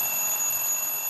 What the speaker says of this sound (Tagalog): Alarm mo yan, oh.